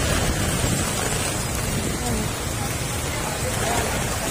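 Heavy typhoon rain pours down near a flooded market street, a dense continuous roar of downpour and wind filling the whole stretch, with voices faintly mixed in.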